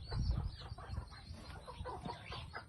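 Chickens cluck on a farm among other poultry and turkeys, a busy run of short, soft clucks and rustles at close range with no talking.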